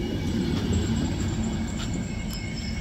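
A train pulls in near a railway line monument, a steady loud rumble of wheels and cars rolling by with faint high squeals and clicks, no voices.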